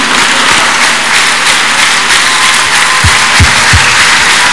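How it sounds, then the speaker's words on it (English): A church congregation at a Lagos testimony service claps in praise, a steady dense wash of applause filling the space, with a few low thumps near the end. "A big clap of praise to Jesus."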